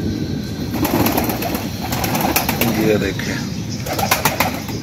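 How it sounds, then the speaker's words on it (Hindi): Fantail pigeons coo softly in a loft on a rainy day, their low murmuring steady beneath someone talking over them and a busy background of other birds. "उसके बाद ये लक्के कबूतर हैं"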